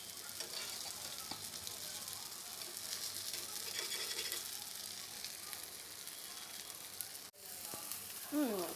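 Millet dosa batter sizzles steadily on a hot pan, a soft continuous crackle with small pops and a brief scrape near the end, no talking.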